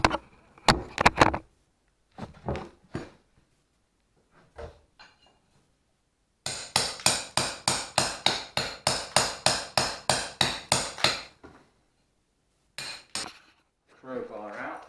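A hammer strikes a steel crowbar to break out old bricks, a long steady run of loud ringing metallic blows after a few scattered clanks and scrapes, with a short burst of hits again near the end.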